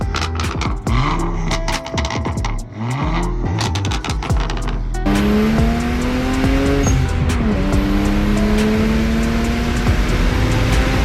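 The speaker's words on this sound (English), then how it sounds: "This is my BMW E92 335i." A BMW E92 335i, formerly a stage 2 twin-turbo car whose turbos blew, revs hard with rising and falling engine tones, first in sharp bursts and then as a sustained loud drone with tire squeal, with no talking.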